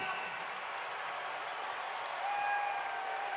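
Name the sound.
basketball crowd cheering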